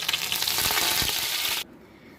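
Potato snack frying in a pan with a steady, close sizzle that cuts off abruptly near the end, leaving near silence.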